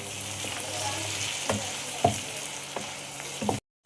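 Coriander leaves fry on a low gas flame with a continuous close sizzle, punctuated by several sharp spatula taps and scrapes against the pan before an abrupt cutoff.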